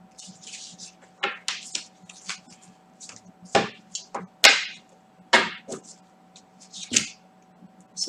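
Playing cards are picked up and handled close by, making soft scattered snaps, flicks and slides in irregular bursts over a faint steady background hum.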